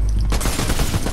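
Rapid automatic gunfire from a Fortnite match, a loud burst of closely spaced shots starting abruptly and continuing without pause.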